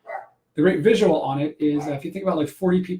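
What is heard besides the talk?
dog barking in the background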